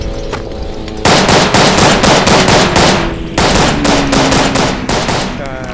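Gunfire in the World War I shooter Verdun: a loud, close burst of rapid machine-gun fire, a short pause, then another sustained burst, over quieter background game ambience.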